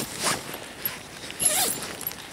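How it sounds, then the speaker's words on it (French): Hammock zipper on a DD Hammocks Jungle Modular double-base-layer hammock pulled by strings tied to each end, giving a few short near rasping zips with soft rustling between them and no talk. "mettre une ficelle à chaque extrémité de la fermeture éclair et on tire"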